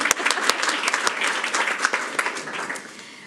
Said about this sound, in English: let's just clap them in.